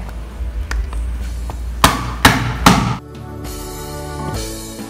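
Galangal root crushed for cooking, a few sharp, loud whacks in quick succession close by, followed by quieter handling and a low background hum.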